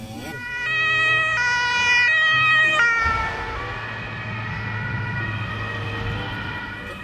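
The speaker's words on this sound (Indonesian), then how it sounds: "Wadidaw, ini ada ambulans warna putih" A white toy ambulance wails its electronic siren, loud and close, first in a stepped two-tone pattern and then a steady warbling wail with a low hum beneath.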